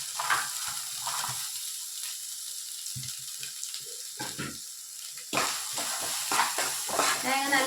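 Chopped coconut pieces fry in a pan for payasam, a hissing sizzle with scraping stirs, quiet at first and louder in the last few seconds.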